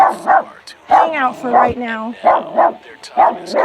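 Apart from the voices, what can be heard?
dog barking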